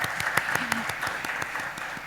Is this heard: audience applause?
yes